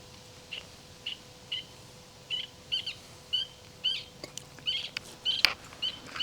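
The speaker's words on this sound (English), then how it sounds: "what is that bird?" A wild bird calls outdoors near a campsite kettle and stove, giving short, bright chirps in an irregular series of about a dozen, fairly close and clear over a quiet background, with no talking.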